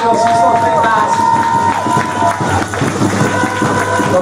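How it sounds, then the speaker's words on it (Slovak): A crowd at an American football game between the Zilina Warriors and Cassovia Steelers cheers and applauds, with a loud, steady roar and clapping under an announcer's voice speaking throughout. "Ešte raz veľký potlesk pre našeho sniepneho číslo 15."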